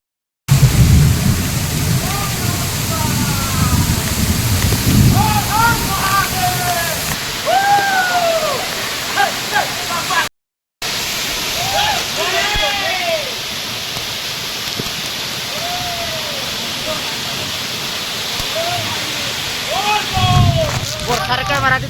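Heavy rain pouring near Khuludi waterfall, a dense loud wash of falling water throughout with a short cut in the middle and a voice briefly audible.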